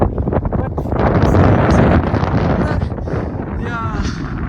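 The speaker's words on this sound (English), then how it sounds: "the velocity of this wind is so high yet that I can't hold my hat over my head" Strong gusts buffet the microphone on a Kashmir glacier expedition, a loud, roaring rumble of wind that swells and eases throughout, with a voice briefly audible beneath it.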